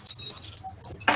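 A set of keys jangles and clinks in a short close burst with small metallic chinks, ending in a louder rattle, with no talk.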